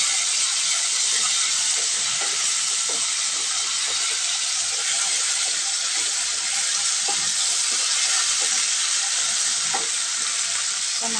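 Onion and packaged ginger-garlic paste fry in a pan for a cluster bean curry, giving a loud, continuous sizzle and hiss with faint stirring scrapes throughout.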